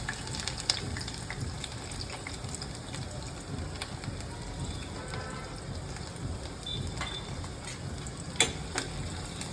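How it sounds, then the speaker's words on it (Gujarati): Capsicum sizzles quietly in oil heated over a low flame, a soft continuous frying hiss with a few faint ticks and clicks from the pan. "ધીમા તાપે તેને થોડા તળી લેવાના"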